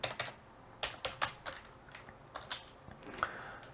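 Code typed on a computer keyboard for an Arduino EEPROM sketch, irregular bursts of quick, close key clicks and taps at moderate to faint level, with no talking.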